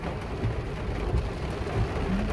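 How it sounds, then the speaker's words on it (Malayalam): Heavy rain pours outside in a steady, muffled hiss heard from indoors, faint and continuous with a few soft low thumps. "എന്തായാലും വെളിയിൽ നല്ല ശക്തമായിട്ടുള്ള മഴ"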